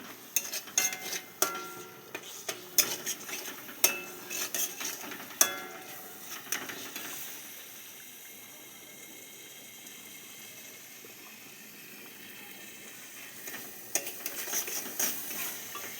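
Spice paste (masala) fries in oil in a pan with a low sizzle, while a utensil scrapes and knocks against the pan in irregular bursts with a quieter stretch in between.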